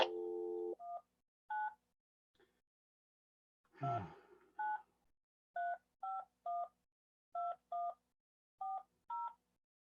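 A series of short touch-tone beeps dialed on a phone, quick pairs and singles with pauses between, plus a brief chirpy burst near the middle.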